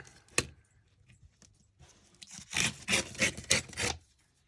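A wooden piece is trimmed down with short rasping strokes, starting with scattered scrapes and taps, then building into five or six loud rhythmic sawing or filing passes near the end, close by and without talk.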